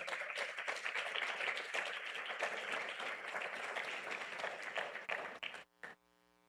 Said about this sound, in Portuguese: Você pode aplaudir esse Senhor?